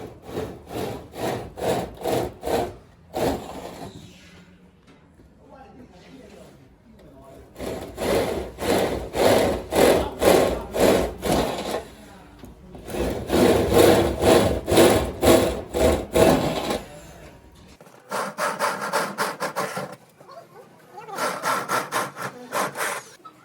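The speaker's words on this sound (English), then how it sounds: "It's painful to watch them drilling holes onto the body of the car." Power drill boring holes into the metal body of a car, in repeated bursts of several seconds each with rhythmic grinding pulses and short pauses between, loud and close.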